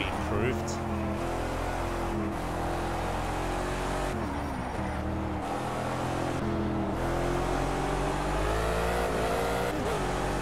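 A Gumpert Apollo S racing in Project Cars at the Nürburgring, its engine droning loud and continuous with pitch rising and dipping through gear changes and throttle lifts, while a voice talks over it.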